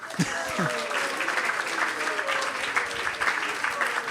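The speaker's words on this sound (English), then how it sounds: "Let's give a big round of applause for Amrit Sagar." An audience applauds at a Krishna Katha gathering, with steady, dense clapping that fills the space while a voice speaks over it.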